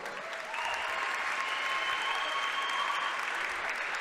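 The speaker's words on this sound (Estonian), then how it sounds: "Teeme talle ka palun ja suure aplausi." An audience at a fight event breaks into sustained applause for the winning fighter, a dense, even clapping that swells after a moment and holds steady throughout, fairly loud and without talk.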